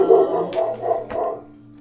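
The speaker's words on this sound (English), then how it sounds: "What's Nelly barking at?" Nelly the dog gives a few short, mid-pitched barks in a quick uneven series, fairly close, over a faint steady hum in a quiet room.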